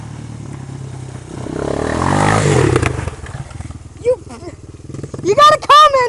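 Two dirt bikes, a two-stroke and a four-stroke, run a backyard motocross track, engines droning and revving loudly up close with a rising rev and sharp throttle bursts near the end, and voices talk over them.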